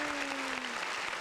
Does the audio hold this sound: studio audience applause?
yes